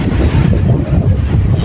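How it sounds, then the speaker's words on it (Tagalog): Strong wind buffets the microphone beside an outdoor swimming pool, a loud continuous low rumble with no other distinct sounds. "Maganda dito, mahangin."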